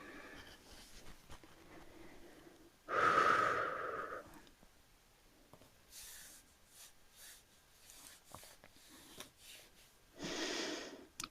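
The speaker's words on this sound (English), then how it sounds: "Inhale. Exhale." A person breathing in and out during a beginner yoga session, one strong audible inhale-exhale followed by softer breaths, close and quiet with no talking.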